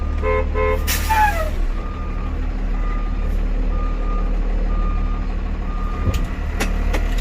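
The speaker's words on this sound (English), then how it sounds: "when I put it in reverse, I can hear the backup alarm" A school bus's backup alarm beeps in a steady rhythm over a rumbling idling engine, with a short burst of higher tones near the start.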